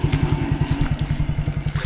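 A motorcycle engine idles close by in a fast, regular low putter of beats, steady throughout with a slight clattery edge and no talk.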